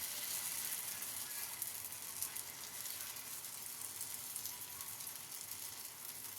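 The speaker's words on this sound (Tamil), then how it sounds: "இப்போ கொஞ்சம் கொஞ்சமாக மாவை ஊற்றி நல்லா தோசை மெல்லிசாக ஊற்றிக்கலாம்" Tomato dosa batter spread thinly on a hot griddle sizzles in a steady, close, bright hiss that holds evenly without pause.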